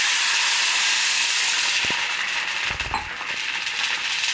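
Water poured into hot oil tempered with mustard seeds and green chillies for a dhokla topping, a loud steady hiss with a sputtering burst midway.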